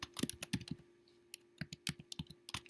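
Typing on a computer keyboard while entering values into a spreadsheet: a close, uneven run of sharp key clicks in small bursts with short pauses, no voices.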